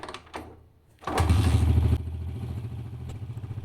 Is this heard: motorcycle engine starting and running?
yes